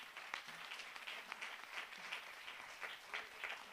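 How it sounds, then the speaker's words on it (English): An audience at a foundation's annual general meeting applauds, many hands clapping in a steady, moderately distant burst that stays fairly faint throughout. "Clap that team."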